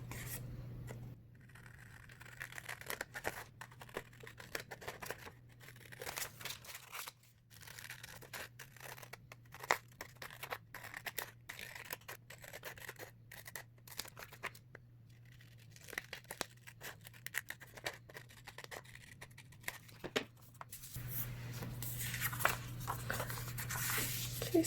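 Scissors snip through paper while cutting out a mask pattern, a long run of short crisp cuts and rustles close by, with a steady low hum beneath throughout.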